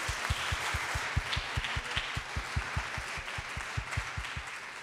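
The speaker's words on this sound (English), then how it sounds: "let's give a round of applause for everyone who worked really hard" At a university thesis competition, an audience applauds in a moderate, even wash while a steady low rhythmic thumping pulses beneath, like rhythmic stomping or a beat.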